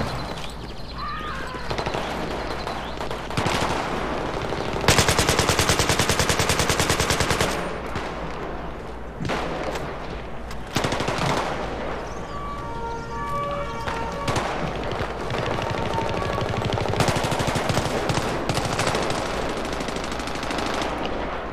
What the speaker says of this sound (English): I hear all these bullets